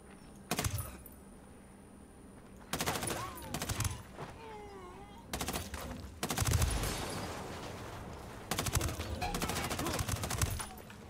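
Gunfire in the video game Ghost Recon Wildlands comes in several loud bursts of automatic fire separated by quieter pauses, with voices speaking in between.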